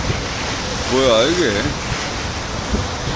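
Steady wind and rushing waves on the Han River fill the air with broad, constant noise, heard during a daytime eel-fishing outing, while a man's short spoken question rises briefly over it.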